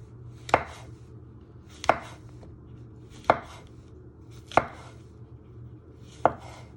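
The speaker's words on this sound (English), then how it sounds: "You're just slicing your mushrooms, just like that." A kitchen knife slices mushrooms on a cutting board with five crisp, evenly spaced thunks, each about a second and a quarter apart. The cuts are close and distinct over a low steady background hum, and nobody speaks.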